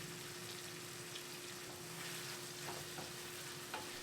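Seasoned ground beef for crunchy tacos fries in a pan with a steady, even sizzle throughout, joined by occasional faint scrapes of stirring, with no talking.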